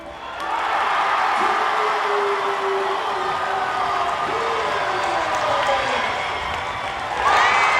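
Crowd in a school gym at a game cheering, clapping and whooping loudly and steadily throughout, a dense roar with a few voices calling out above it.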